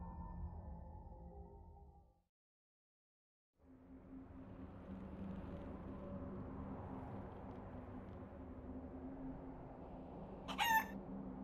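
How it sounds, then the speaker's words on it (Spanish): A rooster-like crow rings out near the end of a game scene from Guacamelee! 2, a short bright burst standing over a steady low musical drone after a brief silence. "Soy la Santa Gallina."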